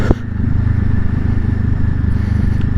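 A motorcycle accelerating along a stretch of road, its engine droning steadily and fairly close with a rough, sustained rumble for the whole stretch.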